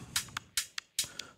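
A looped electronic music track run through a high-pass filter, heard as thin, bright rhythmic hits with the low end stripped away, several short bursts in steady pulse, heard on its own.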